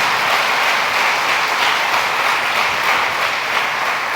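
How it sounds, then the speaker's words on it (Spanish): A church congregation applauding: a thick, even wash of many hands clapping at once, loud and close, sustained for the whole stretch without talk. "Dale un aplauso al Señor, Él merece."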